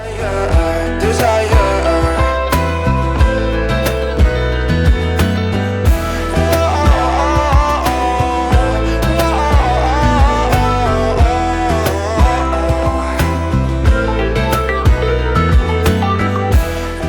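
Festival music plays continuously during setup in a town square in Brașov, a full mix of beat-driven instruments with steady drums, fairly loud and unbroken.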